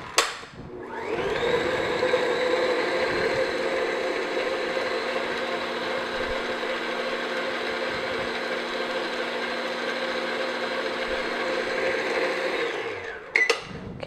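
An electric hand mixer beats a room-temperature egg and vanilla into batter for raspberry oatmeal squares, whirring steadily and loudly for about twelve seconds before switching off with a short clatter.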